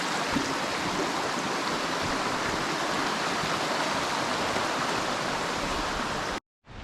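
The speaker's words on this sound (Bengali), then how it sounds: "এগুলো সব গ্লেশিয়ারের জল গলে গলে পড়ছে আই গেস।" Glacier meltwater stream near Seward on a glacier hike, a loud, steady rushing flow of water close by, unbroken until a sudden brief cut at the very end.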